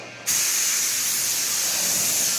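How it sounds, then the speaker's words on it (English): A spray gun painting a 1980 Dodge D150 truck starts with a sudden burst and then holds a loud, steady hiss close by. "to hold the camera, spray the gun at the same time"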